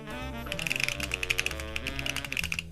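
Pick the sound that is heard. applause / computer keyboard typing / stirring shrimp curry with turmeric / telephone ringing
computer keyboard typing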